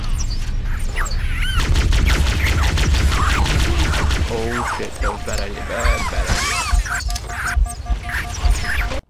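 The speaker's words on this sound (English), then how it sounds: "That was a weird explosion." Explosions and gunfire in the Halo video game, with loud crashing blasts and rapid shots packed into a chaotic stretch that ends in a sudden cutoff.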